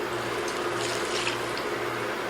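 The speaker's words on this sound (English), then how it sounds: "you're going to take your sauce and you're going to pour it back in" Sauce pours steadily into a pot for a couple of seconds, a full, splashing wash of sound with a low hum underneath and no talking.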